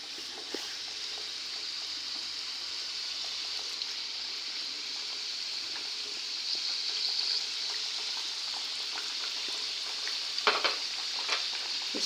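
Paneer samosas frying in oil in a wok, a soft continuous bubbling sizzle with a few sharper crackles and a brief clatter near the end.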